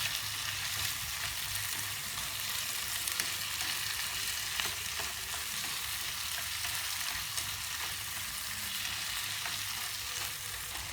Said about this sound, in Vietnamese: Thế là mình xào lên cái tôm mình chỉ đỡ tấn.